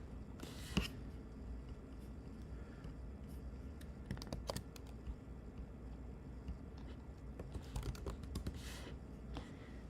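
Typing on a computer keyboard, scattered quiet clicks and taps over a low background hum, with a few sharper key strikes spread across the stretch.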